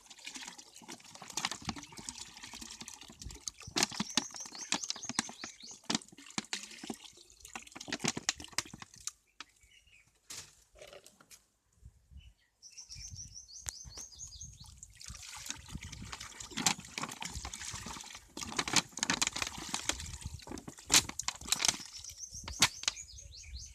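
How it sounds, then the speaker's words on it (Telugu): Cow urine is poured into a Jeevamrutham mixture of farm ingredients, an irregular splashing trickle with intermittent clatter that stops briefly midway before the flow resumes. "5 లీటర్ల గోమూత్రం 2 రోజుల నుంచి 3 రోజుల తీసుకున్నటువంటి గోమూత్రాన్ని ఈ విధంగా"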